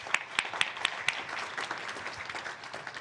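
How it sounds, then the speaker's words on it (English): Audience applause for a conference panel at the CIMM East 2025 event, a few sharp claps standing out at first before blending into steady, moderately loud clapping from a seated crowd. "Can we give my panelists a round of applause?"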